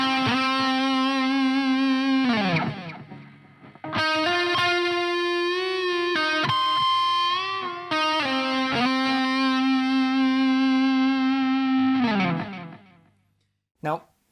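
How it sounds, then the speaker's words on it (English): Electric guitar with distortion and effects plays a repeated bend-and-release phrase twice, sustained bent notes ringing loud and clear with brief gaps between; the second pass adds a pinched harmonic, ending in a short plucked note. "we finish this section off with a little bend and release phrase that repeats twice, with the second time being varied via a nice little pinched harmonic"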